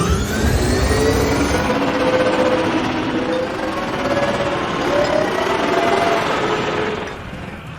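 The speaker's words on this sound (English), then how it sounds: "There came the satisfying sound of swoop bike engines engaging, then fading into the distance." Star Wars swoop bike engines start with a loud, rattling mechanical roar that holds steady and then fades away at the end.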